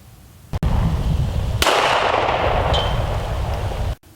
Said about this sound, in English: I shot steel at 200 meters.